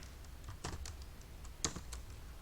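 Soft, close computer-keyboard typing, a handful of quick irregular key taps over a quiet room background, with no speech.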